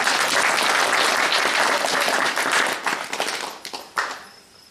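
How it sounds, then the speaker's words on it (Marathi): An audience bursts into dense, loud applause that holds steady and then thins into scattered claps before a final burst, during a Makar Sankranti guidance talk by a mahant. "जरा टाळी वाजणार"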